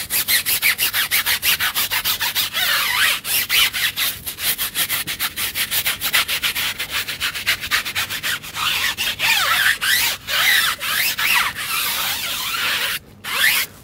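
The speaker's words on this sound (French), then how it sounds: "on va passer à l'action mécanique pour nettoyer la jante avec le produit jante" A small brush scrubs a car wheel rim coated with rim cleaner during detailing, making rapid rhythmic bristly rubbing strokes, close and loud, with brief pauses and no talk.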